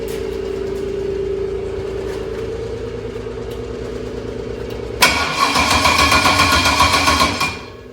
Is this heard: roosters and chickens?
no